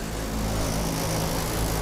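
A 30-ton AAON rooftop HVAC unit runs with a steady, loud mechanical drone and low hum throughout, a continuous rattling roar close by with no pauses.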